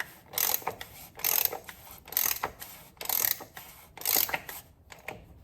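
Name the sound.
socket wrench ratcheting to tighten Porsche Cayman oil filter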